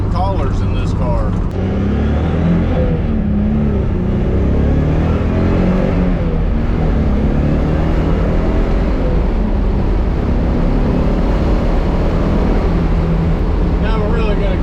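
A turbocharged Nissan 300ZX accelerates hard with its engine roaring loud and close, the car stuttering with wheel hop, and talk over the engine.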